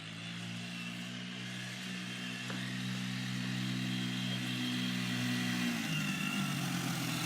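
A dirt bike or ATV engine runs steadily nearby, holding a constant drone before the pitch drops near the end as it slows toward a stop, with no talking.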